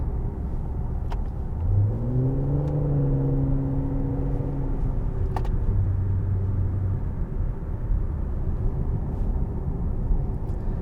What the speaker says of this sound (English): Nice rev matching there.